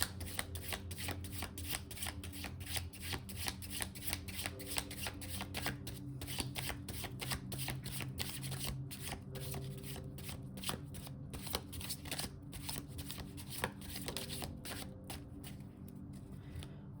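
Tarot cards being shuffled by hand, steady riffling and sliding, close and clear, with no talking.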